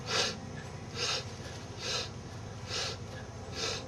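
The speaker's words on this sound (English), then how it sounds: "so we're sniffing in through our nose, and then at the end, through the mouth" Five sharp nasal sniffs, evenly spaced about a second apart, close and fairly loud over a low background rumble.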